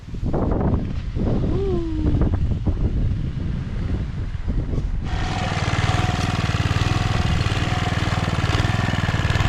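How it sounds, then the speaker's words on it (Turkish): Strong wind roars and buffets the microphone in a continuous rush over a garden bed where pepper seedlings are being planted, with a low engine-like drone growing steadier in the second half. "Bakın rüzgara."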